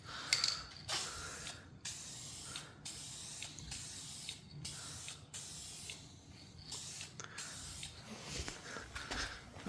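Repeated bursts of aerosol adhesion promoter spraying onto plastic and vinyl parts of a 1971 Chevelle, a hissing spray in roughly even passes separated by brief pauses, close by with no talking.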